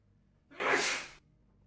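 A single sharp sneeze bursts out close by, a short broadband blast lasting about half a second before quiet returns.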